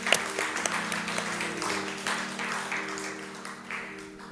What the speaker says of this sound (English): Somebody give God a hand clap of praise.